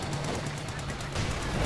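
Rapid STG assault rifle fire from Volks Grenadier infantry in the strategy game Company of Heroes 2, dense overlapping bursts in continuous battle noise, with a commentator talking over it.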